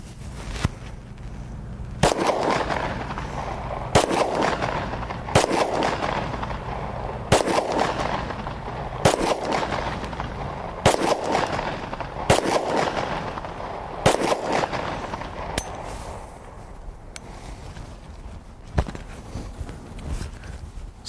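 A frozen Glock pistol fired repeatedly outdoors during a torture test, about a dozen sharp, loud gunshots spaced every one to two seconds with echoing tails.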